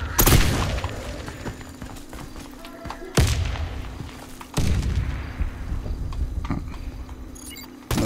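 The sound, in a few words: grenade explosion and gunfire in the video game Warface Breakout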